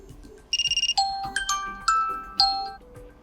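Alarm tone previews chime from a Vivo V50 Lite phone: a quick rapid burst of bright beeps, then several clear ringing ding tones starting and fading one after another, loud and close with no talk.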